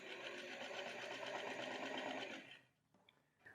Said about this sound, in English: Let's also sew this curve through the butt here.